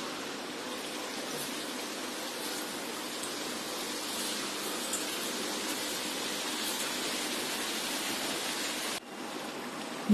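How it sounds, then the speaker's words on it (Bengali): Nacho chips frying in hot oil at home, a steady close hiss and bubbling crackle that runs on evenly before cutting off near the end. "এখন আমি তেলের মধ্যে ছেড়ে দিচ্ছি"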